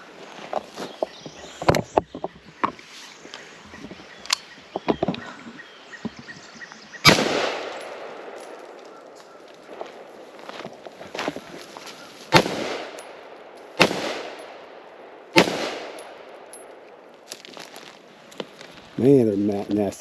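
Gunshots fired at a water moccasin by a creek, a string of loud, sharp reports spaced irregularly over about twenty seconds, each with a short decaying tail, with quieter rustling and faint voices between shots.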